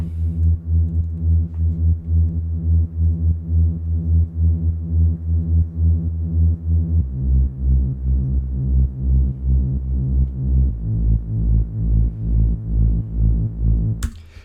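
Deep synth bass line in the style of a track pulses in a steady throbbing rhythm, holding one low note before stepping down twice to lower notes, loud and alone with no voices.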